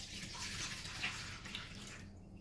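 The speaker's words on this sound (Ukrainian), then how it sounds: "Беремо миску гарного розміру, літр молочка виливаємо миску." About a litre of warm milk pours into a good-sized bowl as a soft, steady liquid rush that tapers off near the end, with no one talking.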